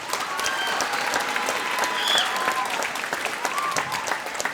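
Audience applauding student singers at a middle school spring music program, a steady dense wash of clapping from a crowd that holds evenly for several seconds.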